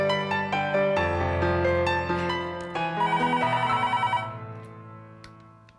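A telephone rings in a Hindi TV serial scene, a bright, repeating electronic ringtone that sounds loud and continuous for several seconds before fading out near the end, with no talking over it.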